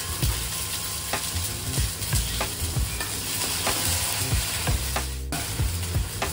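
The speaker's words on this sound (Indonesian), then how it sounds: "Ini namanya kan kita tumis nih, tumis ikan asin." Salted fish and chili stir-fried in a pan, a loud, steady sizzle and crackle running throughout, broken by repeated scraping knocks of a spatula against the pan, with no talking.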